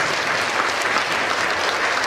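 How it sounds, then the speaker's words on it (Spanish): A church congregation at a concert bursts into dense, sustained applause, a loud, even wash of many hands clapping from a large crowd with no talk over it. "Un aplauso para Cristo Jesús."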